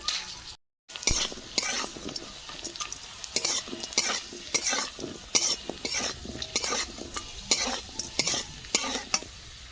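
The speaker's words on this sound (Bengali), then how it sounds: "কিশমিশ দিয়ে দেবো গোটা গরম মশলা দিয়ে দেবো" Raisins and whole garam masala spices fry in hot fat while a spoon stirs them in the pan, giving a steady sizzle broken by repeated scraping strokes and a brief dropout near the start.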